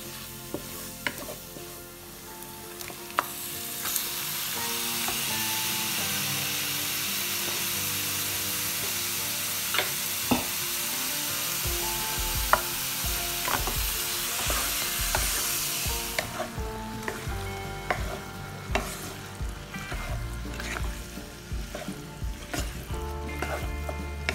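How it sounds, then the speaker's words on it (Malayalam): Chicken for Thalassery-style bullet chilly chicken drops into a hot pan, building into a loud, steady sizzle with repeated spatula clacks and scrapes, easing to quieter frying and stirring after the midpoint. "ഇനി ഇതിലോട്ട് ചിക്കൻ ചേർത്ത് കൊടുക്കണം"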